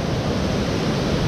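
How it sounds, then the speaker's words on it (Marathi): Pashane village waterfall near Vangani after heavy rain, a loud, dense, continuous roar of rushing water heard close up, with no voices. "हे आमचं पाशाणे गावचा धबधबा आहे"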